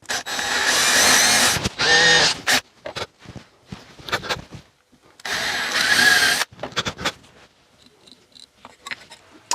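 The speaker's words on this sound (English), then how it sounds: "so let's drill a hole here and in here" A small power drill boring holes into a garden gnome's head, in two loud bursts of about two seconds and one second each, separated by quieter handling noises and light clatter.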